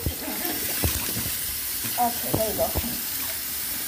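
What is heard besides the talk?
water running while washing a shell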